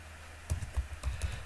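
Quick keystrokes on a computer keyboard, a short run of about six or seven close, light clicks in an irregular rhythm, with no voice over them.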